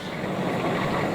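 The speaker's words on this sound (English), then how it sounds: "A Humvee you can hear from 150 fucking yards away." A steady, loud mechanical rumble fills the whole moment, a Humvee's heavy engine idling with broadband roar and no breaks.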